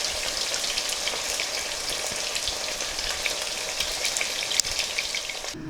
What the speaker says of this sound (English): we're halfway with the cooking process of this first set of wings in the air fryer